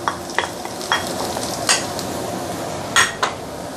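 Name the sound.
onion and garlic sauteing in a pan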